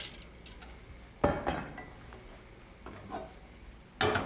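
A pot set back down onto a stovetop while cooking chocolate pots de crème, giving a loud metallic clank near the start, some lighter clinks after it and a second sharp knock near the end, with no talking.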